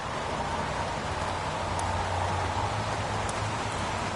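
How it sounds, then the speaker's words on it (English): Steady pouring rain in a video game scene, a dense continuous hiss of heavy downpour with a low rumbling undertone, constant and close throughout with no voices. "Goddamn rain. Hasn't stopped pouring since I arrived."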